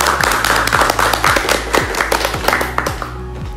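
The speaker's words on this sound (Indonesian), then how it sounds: "Berikan tepuk tangan." Audience clapping to welcome student council candidates at a school event, a rhythmic patter of hands over a loud repeating beat of background music that fades out at the end.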